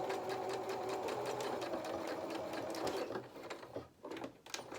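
A sewing machine stitches the fabric body and limbs of a Luna Lapin-style donkey toy, running in a close, steady whir that stops near the end, followed by a few short stitching bursts.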